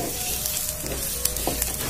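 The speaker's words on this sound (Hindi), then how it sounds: "इसमें थोड़ा सा भूनना पड़ेगा।" A dalia mixture with tomato and crushed roasted peanuts roasts in a pan, with a close, dense sizzle and a few quick scraping stirs and light clinks.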